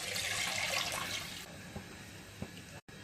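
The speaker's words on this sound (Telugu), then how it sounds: "4 గ్లాసుల వాటర్ వేసుకోవాలి." Four glasses of water poured into a cooking pot while making egg biryani, a splashing, rushing pour for about a second and a half that then drops to a quieter trickle with a few faint knocks.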